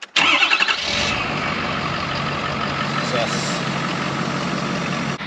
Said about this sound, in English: I've had the engine idling for several minutes and it's been running smooth, no hiccups